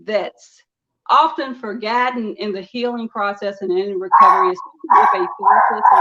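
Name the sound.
dog barking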